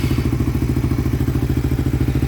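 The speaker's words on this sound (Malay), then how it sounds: "ni bunyi enjin dia sebelum dan selepas" Suzuki Raider R150 Fi motorcycle engine idling close by after a long highway ride, a steady, even low-pitched putter with a quick regular pulse.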